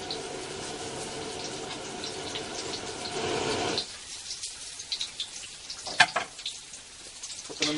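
Agedashi tofu deep-fries in hot oil in a wok over a ring burner, with a busy, crackling sizzle for several seconds that then cuts away to quieter drips and a few light clinks.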